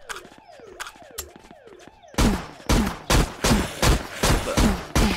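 Gunfire in the zombie game Zompiercer: after a run of quieter, repeated mechanical chirps, loud, evenly spaced shots ring out in a steady rhythm, close and punchy.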